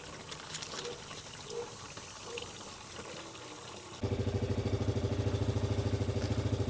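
Water runs from a hose spigot attachment into an ATV sprayer tank, starting as a soft trickle and then turning into a louder, steady, pulsing gush through the drain plug fitting.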